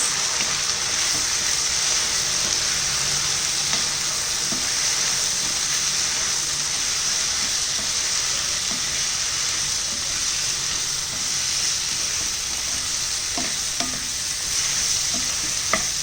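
Potato and onion sabzi with chili powder and salt is stirred in a hot pan, a continuous loud sizzle and hiss with scattered scraping clicks of the spoon across sixteen seconds, no talking.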